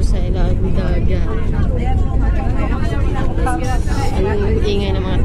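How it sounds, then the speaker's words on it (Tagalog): A noisy crowd chatters near a narrow, steep zigzag road above a beach as a bus travels along it, with continuous loud babble and traffic rumble mixed together. "Ang ingay ng mga tao."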